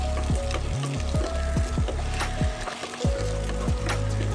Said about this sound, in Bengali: ডালটা কিন্তু এই সবজির সাথেই ভেজে নেবো, আর আলাদা করে ভাজছি না।